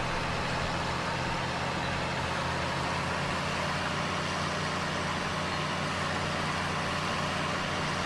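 A tractor engine in a farming simulator game runs steadily throughout, a continuous low idling rumble with a dense broadband drone and no talking over it.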